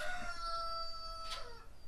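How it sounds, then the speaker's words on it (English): A rooster crows loudly near a fabrication shop, a single long sustained call with clear harmonics carrying across the clip, ending in a harsher burst, with no talking. "rooster's going crazy"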